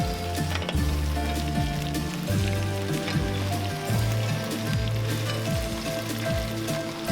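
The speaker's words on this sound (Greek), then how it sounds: "Προσθέτουμε το σπανάκι, το τσιγαρίζουμε με τα κρεμμυδάκια." Spinach and spring onions sautéing in olive oil in a pan give a steady, close sizzle and crackle, like light rain, with faint stirring and no voices.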